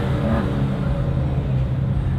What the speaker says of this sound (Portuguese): O ronco do carro do cara ali é alto